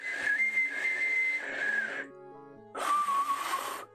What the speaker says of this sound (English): I'm learning how to whistle today.